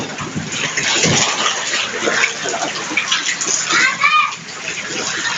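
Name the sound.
flood water being cleared out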